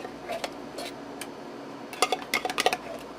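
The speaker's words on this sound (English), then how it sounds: "I'm just taking a regular size can of cream of mushroom soup. I'm putting it in a saucepan." Canned cream of mushroom soup going into a saucepan, with a few scattered clinks and then a quick run of sharp metallic taps and scrapes, close and fairly loud.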